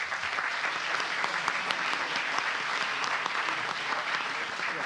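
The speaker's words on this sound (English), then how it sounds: "We should give him a round of applause, Governor Sonny Perdue." A crowd applauds steadily at a 2010 tax reform political event introducing Georgia Governor Sonny Perdue, dense clapping filling the whole stretch at a constant, fairly loud level.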